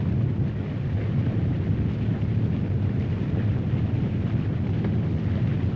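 A river falls roars on unseen ahead, a dense, steady low rumble of rushing water that fills the whole stretch without pause, loud and constant with no voices over it.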